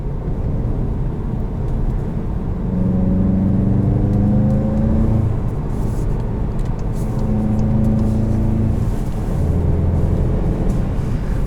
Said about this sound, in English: Heel toe rev match downshifts are a breeze, and so is normal rev matching without braking.